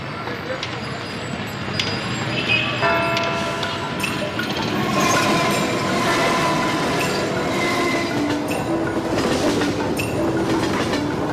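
A train rolls steadily along the rails with rhythmic clatter and high metallic wheel squeals, a continuous close-up rumble throughout.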